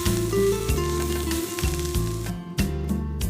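Boiled potato fries in a pan with an even, steady sizzle that runs throughout, mixed with background music that has a stepping bass line.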